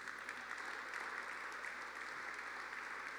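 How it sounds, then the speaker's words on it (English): Audience clapping at an advertising awards hall of fame ceremony: a soft, distant, continuous wash of many hands applauding, steady and even throughout with no voices. "You can clap one more time,"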